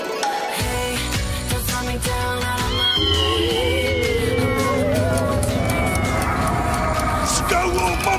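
A cat meowing repeatedly in a Japanese TV commercial, drawn-out rising and falling cries over background music and other sounds, with people speaking at points.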